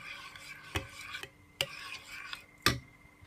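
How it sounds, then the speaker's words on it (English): A spoon stirs coconut potato salad in a bowl, with three or four distinct scraping knocks against the dish, close and fairly quiet. "Give it a stir."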